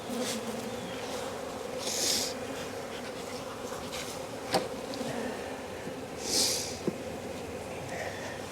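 Honey bees buzz steadily around an open beehive during a brood inspection in Jacksonville, Florida, a continuous close hum with a couple of louder swells as individual bees pass near.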